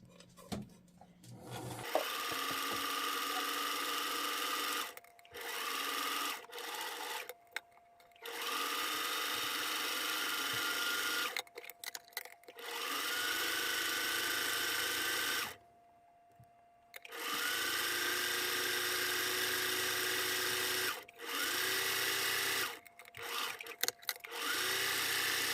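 A sewing machine stitches a tiny hem on fabric held with basting thread, running in steady bursts of mechanical whirring and rapid needle clatter, with brief pauses between runs and no voices.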